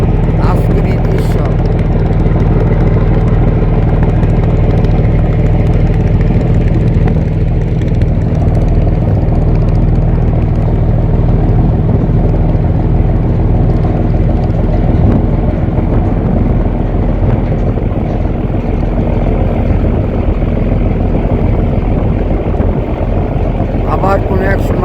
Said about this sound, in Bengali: আপনারা দেখতে পাচ্ছেন সদরঘাট লঞ্চ টার্মিনালের আজকের এই দৃশ্য